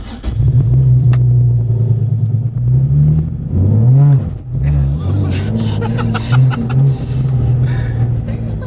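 A manual Nissan Z engine rumbles and revs in a few rising surges, close and loud, with laughter and voices mixed in.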